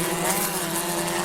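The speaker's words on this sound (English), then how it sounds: "The revs go sky high as well as they head over the top there." Historic Formula Ford race cars at Cadwell Park crest the mountain hill, engines revving high in a steady, loud, buzzing drone with no talk over it.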